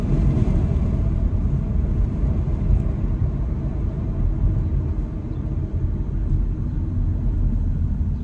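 Steady low engine rumble and road noise from inside a moving car, continuous and fairly loud with no talk.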